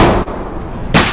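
Two sharp, very loud handgun shots from a .40 caliber pistol crack close by at a shooting range, each one an abrupt broadband blast, separated by a brief lull.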